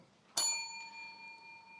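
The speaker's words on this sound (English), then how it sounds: "Is that the last bell?" A debate timing bell in a quiet chamber gives a single bright ding that rings on and slowly fades, heard alone and faint.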